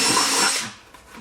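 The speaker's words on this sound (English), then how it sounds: "drill holes through the upper rim" A power drill bites through the upper rim of a plastic bucket in a short, loud whirring burst that fades out within a second.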